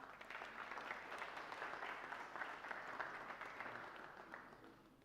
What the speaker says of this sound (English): Kindly give them a huge round of applause,